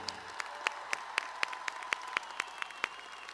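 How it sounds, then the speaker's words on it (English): Faint, sparse applause at the Conroe High School class of 2023 graduation ceremony, a dozen or so distinct claps in a steady rhythm over a quiet room. "Give her another round of applause for the Conroe High School class of 2023."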